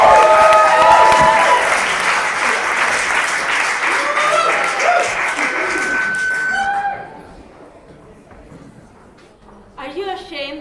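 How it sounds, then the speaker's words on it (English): Comedy night audience giving a warm round of applause, loud and sustained for about seven seconds before dying away, with voices talking over it and after it. "please give a very warm round of applause for Isa Bonachera, Maria Policino, and Annabella Sami"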